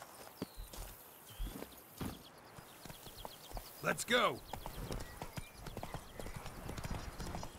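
Soft, quiet clip-clop of horse hooves in The Witcher 3: Blood and Wine, with music, effects and someone speaking briefly over it.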